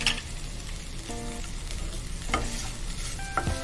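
Curry leaves drop into frying papaya thokku, giving a soft steady sizzle in the pan broken by a few brief crackles and stirring clinks.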